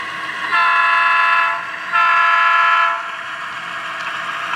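A model train's horn sounds in two sustained blasts, each about a second long, over a faint running hum.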